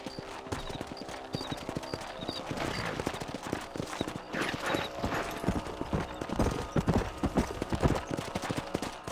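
Horse hooves clip-clop at a steady riding pace in the Red Dead Redemption western video game, close and rhythmic over a rustling ranch ambience.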